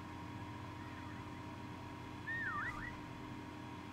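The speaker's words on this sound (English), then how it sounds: "I'm gonna whistle in like 5 seconds" A player's character whistles in Call of Duty WW2 Prop Hunt, a couple of short swooping whistle notes over a steady low game hum, the second phrase louder and more wavering, with no talk.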